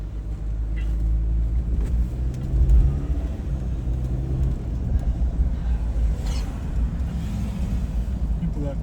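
A truck rolls past on a city street in Chattanooga at night, a steady engine rumble swelling briefly near the middle and carrying on under low wind noise, with no one speaking.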